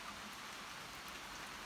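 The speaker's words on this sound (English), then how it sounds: "it's raining really hard" Heavy rain pours down just beyond a covered porch in New York, a dense, steady hiss of drops hitting surfaces with no pauses, close and loud throughout.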